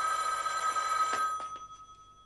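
A telephone bell rings with a bright, steady metallic trill, then breaks off into a few short, fading rings as the sound dies away.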